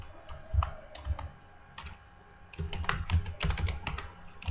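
Someone types code into a Visual Basic form on a computer keyboard, with close, clear clicking keystrokes that come in sparse taps and then faster bursts.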